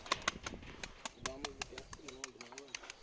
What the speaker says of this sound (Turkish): Kuşlar da kıpır kıpır yerinde de durmuyor bak